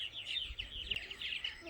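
Several small birds chirp continuously close by on a morning at a vacation rental house, quick overlapping tweets forming a steady busy chorus with no talk.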